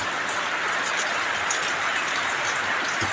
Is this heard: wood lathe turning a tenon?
no